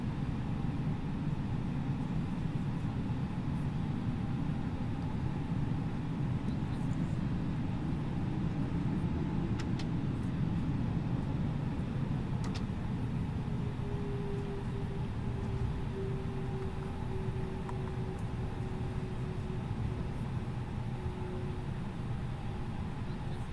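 Airbus A330-900neo engines running at idle while the aircraft taxis in the MSFS 2024 game, a steady broad rumble and whine with a faint tone that slides gently, no one talking.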